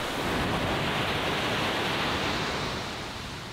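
Steady broadband roar of surf breaking on a beach in Zambales, loud and continuous with no clear gaps, easing slightly toward the end, no talk over it.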